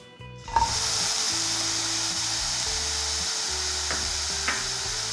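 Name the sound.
chopped pineapple cooking in a hot pan for halwa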